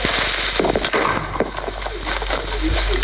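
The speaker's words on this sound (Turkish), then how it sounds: "Hani evimizin önü patladı." Explosion in front of a house in Minecraft: dense crackling, popping bursts fill the whole stretch, steady and fairly loud without a clear single blast.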